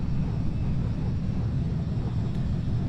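Steady low jet engine drone of an Embraer E175 airliner in the Microsoft Flight Simulator 2020 game, climbing on departure from Phoenix; a continuous, even rumble with no talk over it.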